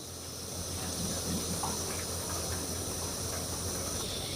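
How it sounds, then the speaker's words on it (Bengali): Flour-based gulab jamun sweets fry in a wok of oil, giving off a steady, soft hiss that stays even and fairly quiet throughout, with no talk over it. "এইভাবে কড়াইতে একটুখানি নাড়ালেই দেখবেন খুব সুন্দরভাবে কিন্তু চারিদিক ভাজা হচ্ছে"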